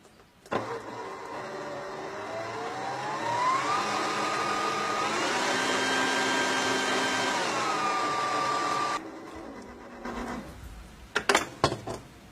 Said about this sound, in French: nous allons foisonner la pâte à bombe à l'aide du batteur jusqu'à refroidissement environ à 40 degrés